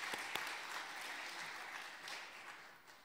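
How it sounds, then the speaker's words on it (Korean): A church congregation applauds in encouragement after a deacon's hymn at a Wednesday worship service, soft and fairly distant, a continuous patter of many hands with a couple of sharper claps early on. "우리 안수집사를 향해 함께 격려의 박수를 함께 올리겠습니다"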